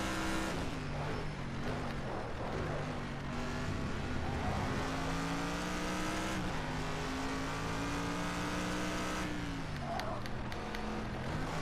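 Race car engine in a driving video game, a continuous loud droning whine whose pitch climbs and drops through gear shifts and corners, with brief tire squeal, and no talk.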